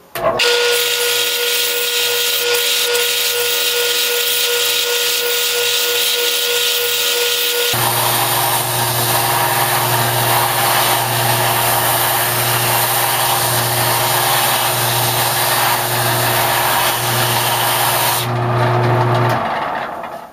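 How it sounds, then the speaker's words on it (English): Steady rhythmic scraping of sandpaper rubbed by hand over a wooden vase, continuous and close, with the texture shifting partway through; no voices. "it's going to take a good bit of sanding to make it completely smooth"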